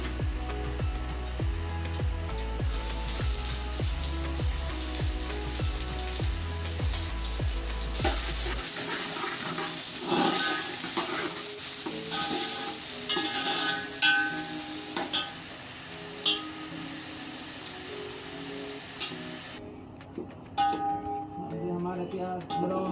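Onions frying in a pot for mutton yakhni pulao, a steady sizzle that runs throughout with other sound layered over it and tapers slightly near the end.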